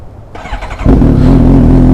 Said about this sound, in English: Now let's start the bike.